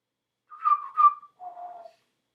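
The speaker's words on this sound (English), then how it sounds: "We'll see what song I'm whistling this time." A person whistles a short tune of three clear phrases, two rising notes followed by a lower one, close and alone against silence.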